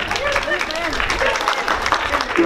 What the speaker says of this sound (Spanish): Un aplauso para los novios.